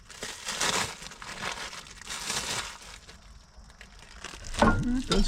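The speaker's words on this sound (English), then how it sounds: "Tear this package open." Plastic packaging for a Cub Cadet 2554 garden tractor oil change part being torn and crumpled open nearby, loud rustling crinkles in two bursts, followed by a brief voice.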